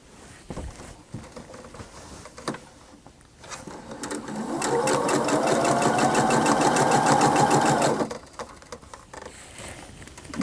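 A sewing machine stitches quilt blocks in a rapid, even mechanical whirring run of several seconds, close and loud, preceded and followed by small handling clicks.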